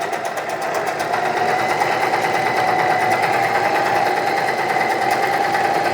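An Usha electric sewing machine runs steadily on a continuous long stitch, its close, even whirring motor and needle chatter filling the whole stretch without a pause.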